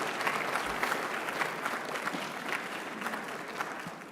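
Audience applause at a community award presentation ceremony, a dense, even crowd clapping at moderate distance that runs steadily throughout without talk.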